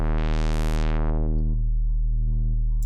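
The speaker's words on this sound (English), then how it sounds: "I can change it to the sawtooth wave or triangle or a sine wave here. And I can open up the filter here" A modular synthesizer oscillator drones in a steady, buzzy harmonic tone as its filter sweeps from bright to dark, leaving a mellow sustained hum that carries on alone.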